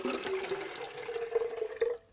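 Water is poured from a small container onto the potting soil of African violets, directed between the leaves, making a steady, soft trickle and splash that runs for about two seconds before stopping abruptly.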